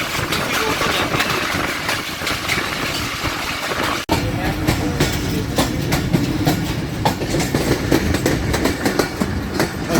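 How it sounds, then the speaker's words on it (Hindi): A train approaching Golra railway station on the Peshawar route, with a steady, loud rumble of rolling wagons and clattering wheels, a brief dropout partway through, then continued clickety-clack and engine drone. "ट्रेन गोल्डा रेलवे स्टेशन पर अप्रोच कर रही है"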